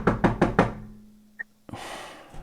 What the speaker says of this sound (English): And then they knock on my door.